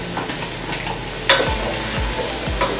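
Chickpeas fry in a pan with a steady background sizzle while a utensil stirs them, giving a few distinct scraping knocks against the pan at regular intervals, close up and without talk.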